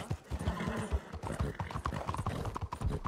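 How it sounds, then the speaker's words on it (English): Horse hooves clip-clop at a steady trotting rhythm in the video game Red Dead Redemption 2, close and fairly loud, with a few whinnies mixed into the hoofbeats. "Giddy up, horsey. Why are you going so slow?"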